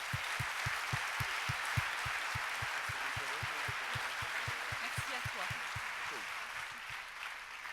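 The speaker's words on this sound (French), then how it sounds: "Vous pouvez les applaudir." Audience applause at a notaries' congress session, a steady wash of many hands clapping in a large hall, with a low rhythmic thumping beneath it and no speech over it.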